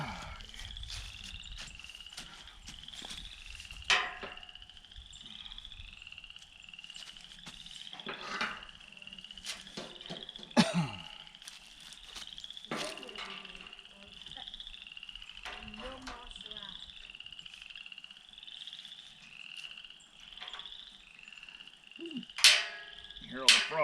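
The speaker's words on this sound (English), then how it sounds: "Hear all the frogs." A chorus of frogs croaks outdoors at night in steady repeating pulses from nearby, with scattered clicks, knocks and thumps of people working close by.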